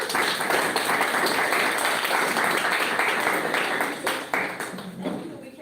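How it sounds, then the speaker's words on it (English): A roomful of people applauding panelists at a writers' gathering, a broad sustained round of clapping that stays loud and even before tapering slightly near the end. "a loud round of applause for our panelists"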